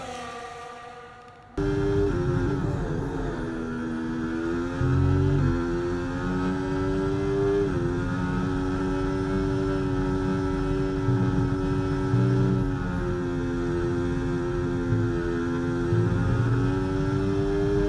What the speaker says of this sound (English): Let's let the engine sound run now through here.